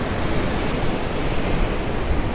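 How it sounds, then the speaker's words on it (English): Steady, loud wind buffeting at a breezy seaside, a continuous broadband roar with surf-like rumble and no pauses throughout. "it's a bit breezy here"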